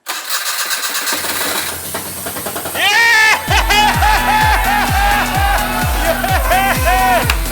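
A Daihatsu Midget with a newly repaired starter motor cranks, catches and fires up loudly nearby, then settles into a pulsing, lumpy idle with rhythmic throbs, while excited voices cry out over the engine.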